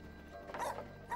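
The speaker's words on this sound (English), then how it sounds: "Her mother's dog." A dog barking amid disaster rubble: one short near bark with a whimpering edge, followed by a brief second yelp.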